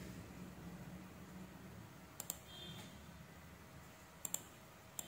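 Faint, sharp computer mouse clicks while using a cut tool to remove the background from a PCB layout image: a quick pair, another pair a couple of seconds later, and a final click, over a quiet room hiss.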